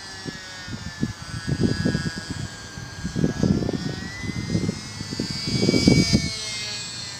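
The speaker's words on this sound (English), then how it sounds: "the motor is losing a little bit of power in the vertical climbs" An SBACH 342 model aerobatic airplane flies in calm conditions, its electric motor whining steadily overhead with a rising and falling pitch while a voice talks in bursts underneath.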